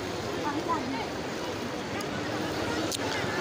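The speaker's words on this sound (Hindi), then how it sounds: "बहुत तेज़ी में पानी निकल रहा है।" Floodwater rushing fast under a village bridge in Khainsa, Darbhanga, Bihar, a dense continuous roar of water mixed with wind buffeting, loud and steady throughout.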